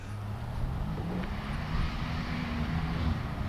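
Drone flying outdoors near a 20-foot-deep pond, a steady buzzing motor whine holding at a moderate, fairly distant level for a few seconds with no talking.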